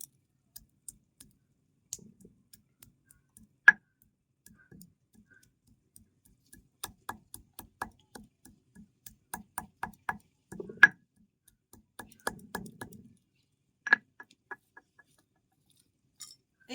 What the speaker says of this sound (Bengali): আমি শিল নোড়াতে এগুলোকে একটু আধা ভাঙা করে নিচ্ছি